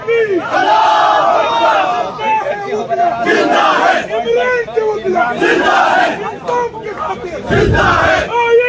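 A large crowd of lawyers chanting slogans in unison, loud and close, rising and falling in repeated shouted phrases with brief gaps between calls.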